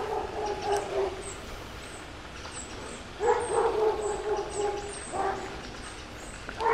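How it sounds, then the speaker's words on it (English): Dog barking on a walk through Wimbledon Village, a few distant bark bursts spaced apart over quiet outdoor ambience with faint birds. "Apart from the dog barking,"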